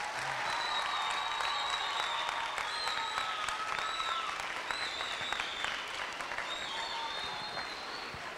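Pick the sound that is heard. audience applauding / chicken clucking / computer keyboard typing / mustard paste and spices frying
audience applauding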